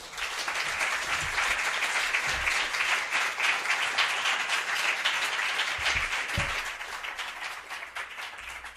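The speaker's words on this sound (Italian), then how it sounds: "Lo accogliamo con un bel applauso." Steady applause from an audience welcoming a speaker at a book presentation event, a dense wash of clapping that holds for several seconds and then starts to taper.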